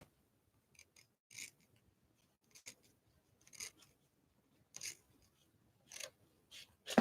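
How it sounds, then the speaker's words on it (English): Scissors snipping paper for an art journal cover, a series of short, crisp cuts spaced a second or so apart, close and fairly quiet, with no talking. "I'm going to snip it a little"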